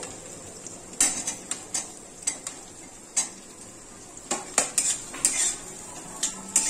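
Chopped onions tipped into a pan and stirred with a metal utensil for a cauliflower dish: irregular sharp scrapes and clinks against the pan, close and fairly loud, over a faint steady sizzle.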